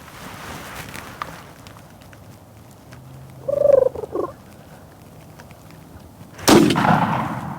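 A wild turkey gobbles twice in a field at dusk, a loud rattling call, then a sharp burst rings out near the end over quiet outdoor background.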